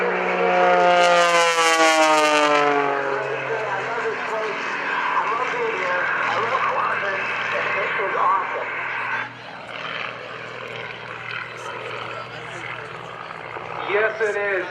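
Aerobatic airplane flown by John Klatt diving and performing an eight-point roll at the 2011 Rhode Island Air National Guard open house airshow, a loud sweeping engine drone with pitch shifts, heard under commentary over the public address.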